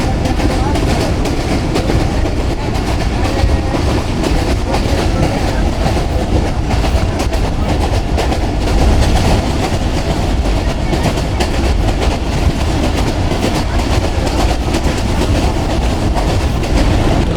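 Heard from on board, the Millat Express rolls at speed between Lalamusa and Karachi with a loud, constant rumble and rhythmic clatter of wheels on track for the whole stretch.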